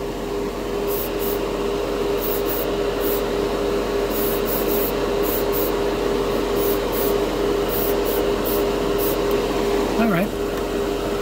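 An airbrush hisses steadily and closely throughout, spraying metallic mica pigment powder onto model pieces, with a constant airy rush and faint rhythmic ticks above it.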